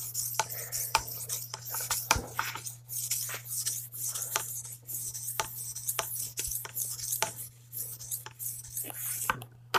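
A cleaver drawn across a conventional Edge Pro sharpening stone, quiet repeated scraping strokes in an irregular rhythm over a steady low hum, close up with no voices.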